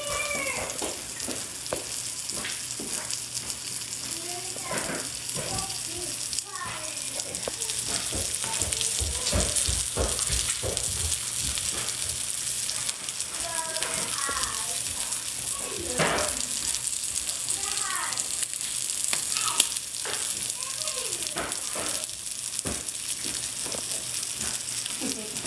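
Eggs frying in a pan for breakfast quesadillas, a steady sizzle and crackle with occasional clinks and kitchen bumps over a low hum, some faint background voice.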